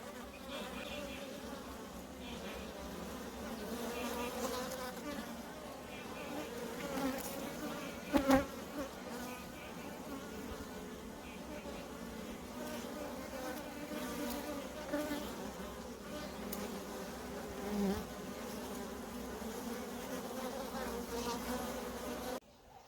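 Cape honey bees swarm and ball intruders at a hive entrance, making a steady, dense buzzing drone that holds for the whole stretch, close to the microphone, with a few louder swells.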